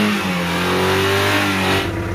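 A restored Maruti Gypsy's engine revs loud and close, a steady droning rise held for about two seconds before easing off, with no talk over it.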